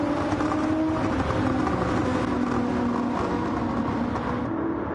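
Loud, steady engine roar of several stock cars accelerating together out of pit lane in a Daytona 500 racing game, a dense sustained drone that holds for the whole stretch.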